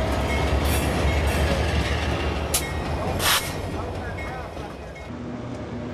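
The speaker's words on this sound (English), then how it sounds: "The Norfolk Southern is constantly making transfer runs to its Florida partner" Norfolk Southern freight train on a transfer run near the Florida East Coast Railway in Jacksonville, a steady low rumble of rolling cars with faint wheel squeals and clicks, heard at moderate distance throughout.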